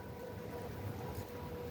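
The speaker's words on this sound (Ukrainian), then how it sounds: "От зараз згула у нас знову сирена." An air raid siren sounds in Ukraine as a faint, distant, steady wail beneath low background rumble.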